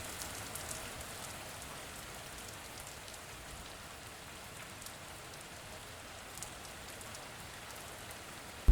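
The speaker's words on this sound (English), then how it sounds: "The rain beat violently against the windows of the old isolated house." Steady heavy rain hisses continuously, with scattered drops pattering against nearby windows.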